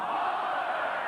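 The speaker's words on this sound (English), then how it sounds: "the crowd underneath us shout that that was forward to Adrian Morley" A stadium crowd at a rugby league match, St Helens versus Leeds Rhinos, lets out a brief, broad roar of shouting voices, steady and fairly loud for about a second.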